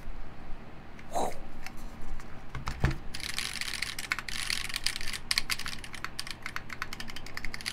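Rapid, steady keystrokes on an X60 mechanical keyboard, close and clear, with a dense run of clacks filling most of the stretch and no talk.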